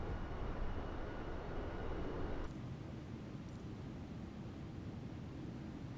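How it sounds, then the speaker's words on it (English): Airliner cruising at high altitude in a flight simulator game, a steady broadband engine and wind roar that drops to a lower, duller level partway through, with no voices. "Little high altitude flyby here."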